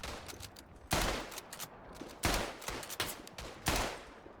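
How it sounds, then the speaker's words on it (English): Rapid gunfire crackles in Tannenberg, a World War I video game, coming in several sharp loud bursts and volleys with a noisy, distant battlefield background between them. "That is the type of quick firing shooting we need."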